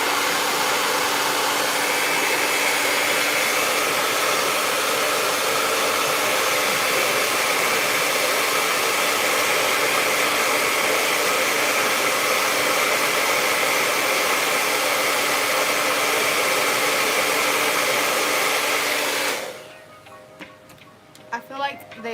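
A blow dryer drying nail polish on press-on nails roars loud and steady up close for about nineteen seconds, then cuts off, leaving quiet handling sounds.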